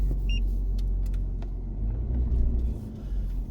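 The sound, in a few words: vehicle driving down flooded jungle road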